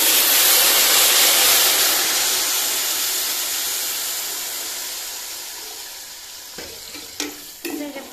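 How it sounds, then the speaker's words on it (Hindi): Water poured into a hot pan of a sweet dish spiced with cardamom bursts into a loud, steamy sizzle and hiss that slowly fades, ending with a few light clinks. "जब पानी डालें तो थोड़ा ख्याल रखना पड़ता है, क्योंकि ये भाप की होती है और फिर उठती है"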